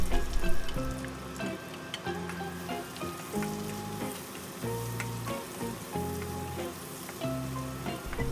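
Onion sautéing in oil with garlic for Filipino ginisang bagoong alamang (sautéed shrimp paste): a steady close sizzle with scrapes and taps of a utensil stirring in the pan, no talking.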